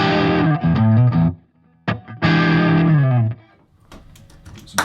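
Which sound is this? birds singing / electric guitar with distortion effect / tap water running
electric guitar with distortion effect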